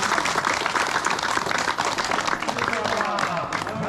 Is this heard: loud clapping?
yes